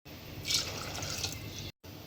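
Water is poured over washed dal and rajma in a pressure cooker, a close, steady splashing gush that swells briefly, then cuts off abruptly before a faint resumption.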